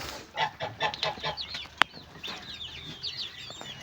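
Young chicks growing up after hatching in an extreme incubation setup cluck and peep in a quick, irregular series, fairly close but soft, with one sharp knock midway.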